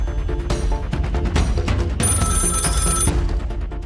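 A telephone rings in a domestic drama scene, a loud electronic ring running throughout with dense music and background sound underneath.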